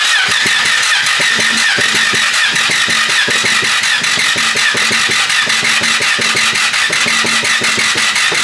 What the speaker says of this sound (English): So I'm going to go ahead and try to crank her over and see if the motor...